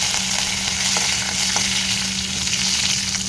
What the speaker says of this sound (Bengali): কারি পাতাটা ভাজা হয়ে গেছে